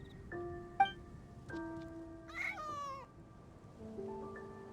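Several short cat meows from an animated cat in the game Genshin Impact, clear and close, spaced apart over a faint background hiss, with one higher, longer mew near the middle.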